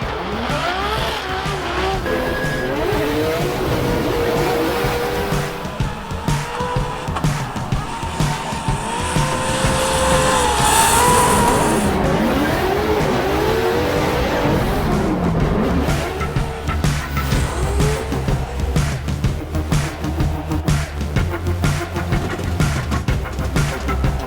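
A Formula D drift car in Seattle roars and revs while its tires squeal and skid in long wavering screeches, loud and sustained throughout.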